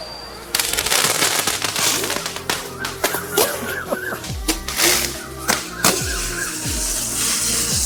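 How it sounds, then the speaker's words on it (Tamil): A Kinder Joy shaped firecracker goes off in a rapid string of sharp pops, cracks and crackles, some louder bangs standing out among a dense, irregular burst lasting several seconds. "வாங்க நம்ம வெடிச்சு பார்க்கலாம்."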